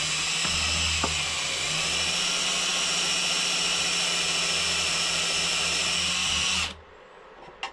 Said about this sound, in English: Now I can drill that out.